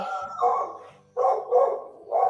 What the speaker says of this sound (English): We have a puppy in the room.